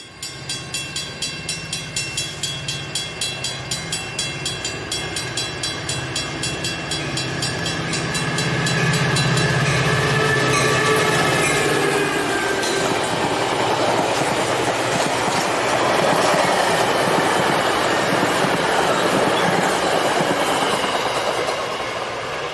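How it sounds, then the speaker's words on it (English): A Metra westbound express train rushes through Downers Grove, rhythmic clickety-clack of wheels building into a loud, sustained roar as it passes close, with no horn sounding. "Another westbound express charges through Downers Grove"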